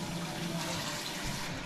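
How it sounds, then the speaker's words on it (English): Tap water runs steadily in a home kitchen while hands are washed between preparing jerk chicken, lamb racks and sausages, a continuous close broadband rush with no talk. "So I'm gonna wash my hands now."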